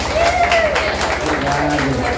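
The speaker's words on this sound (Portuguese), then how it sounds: "Uma salva de palmas." Audience applause at a community cultural night, a steady wash of clapping from a crowd with a voice speaking over it and a low rhythmic hum underneath.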